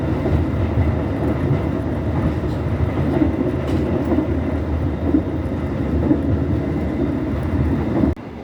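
The Ranggajati passenger train rolls steadily along the rails after leaving Cirebon station, a loud continuous rumble with faint rhythmic clacking, the noise dropping off abruptly near the end.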